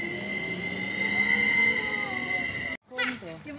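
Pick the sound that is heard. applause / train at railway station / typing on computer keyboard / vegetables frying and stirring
train at railway station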